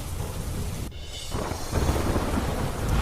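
Steady rain falls with a rolling rumble of thunder underneath, the downpour continuous and fairly close throughout the few seconds.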